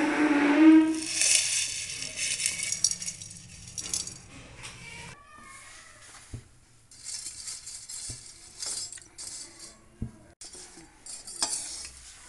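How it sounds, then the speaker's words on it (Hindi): Thick noodles being dry-roasted in a pan for vegetable chow mein, with scraping stirring and faint sizzling near the start, followed by quieter clinks and light taps of a utensil against the pan. "सबसे पहले हम जवों को भून लेंगे।"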